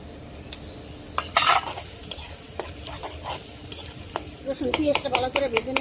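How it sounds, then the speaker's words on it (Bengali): Garlic and onion frying in oil in a wok (kadai) for a khichuri tempering, with a soft sizzle under repeated scraping and stirring clinks of a metal spatula against the pan, louder toward the end. "রসুন পেঁয়াজটা ভালো করে ভেজে নেব, লাল লাল করে।"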